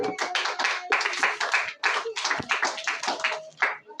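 A church congregation clapping in rhythmic bursts, many hands striking together in a fast, uneven beat that breaks off and resumes, loud and close-sounding in a live room.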